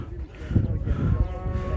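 A cow at the Erzurum livestock market lets out a deep, drawn-out moo close by. Wind rumbles underneath the call.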